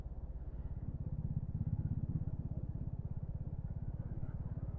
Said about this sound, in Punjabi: ਇੰਨੀਆਂ ਵੀ ਗੱਡੀਆਂ ਮੋਟਰਸਾਈਕਲ ਜਾ ਰਹੇ ਨੇ